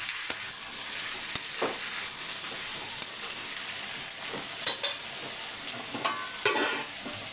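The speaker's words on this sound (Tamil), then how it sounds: "பூண்டு வெங்காயம் கருவேப்பிலை வதங்கினோன்னு தக்காளி போட்டு இது ஒரு பக்கம் வதங்கட்டும்." Garlic, onion, curry leaves and tomato sautéing in a pan, a moderate sizzle punctuated by repeated spatula scrapes and taps, heard close and without talk.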